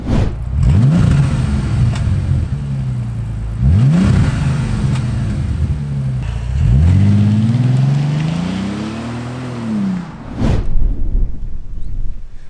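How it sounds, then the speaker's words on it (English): Bentley Continental GT with its W12 engine and standard exhaust revs three times in rising and falling sweeps, loud and muffled, each blip swelling and fading, before a short sharp burst near the end. "how bad, well, not bad, but just muffled the Bentley Continental GT sounds"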